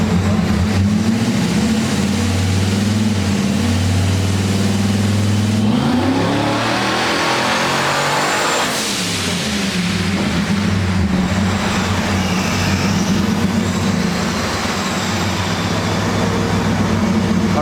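Procharged LS-swapped Ford Falcon engine roaring on a dyno, a loud steady drone that sweeps upward as it revs hard around the middle, with whine and exhaust roar continuing at high load throughout, no talking.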